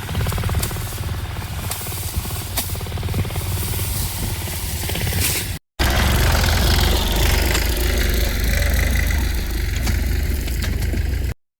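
A loud, steady tractor engine drones continuously at close range, with a brief cut partway through before the rumble resumes just as strongly.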